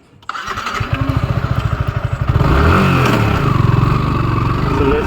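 A motorcycle engine starts with a quick catch, then settles into a steady rhythmic idle and rises into a louder, fuller rev, close and alone, on a Sunday ride toward a temple in Singur.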